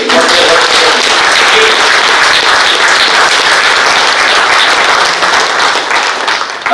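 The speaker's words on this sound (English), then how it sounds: "So let's have a clap for BSL team." Meeting attendees at an operating committee session giving a team a round of applause; loud, continuous close clapping filling the room, tapering off at the end.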